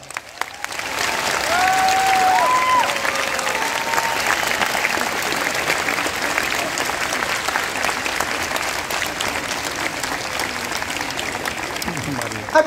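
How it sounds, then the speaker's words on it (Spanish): Loud, sustained applause from a large crowd for graduates at an outdoor graduation ceremony in Plaza Salvador Allende, swelling early and holding steady, with a few whistles and shouts over it. "Hagamos temblar la Plaza Salvador Allende con un fuerte aplauso para nuestros"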